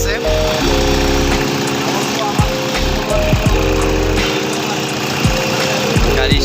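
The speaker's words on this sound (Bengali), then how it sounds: "গাড়ি স্টার্টে আছে, কোনো নকিং নাই, শব্দ অনেক ভালো।" A refitted Toyota Hilux 2KD diesel engine idles steadily and smoothly without knocking, close and loud, its even hum running throughout while people talk over it.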